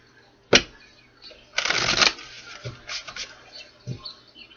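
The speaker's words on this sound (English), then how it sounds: "One more shuffle." A tarot deck is shuffled close up. A single sharp snap comes first, then a longer riffling burst, then several softer card flicks and taps spaced unevenly through the rest, with no talking.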